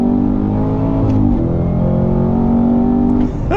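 A Cadillac CT5-V Blackwing's supercharged V8 with a Tremec 6-speed manual pulls hard under loud, close acceleration, pitch climbing then dipping briefly during a no-lift shift before rising again.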